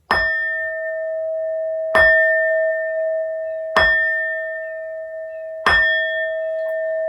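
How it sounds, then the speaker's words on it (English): A bell is struck four times at even intervals, each clear ringing tone sustaining and slowly fading into the next strike. "These next 4 bell sounds are to align us and to bless this reading"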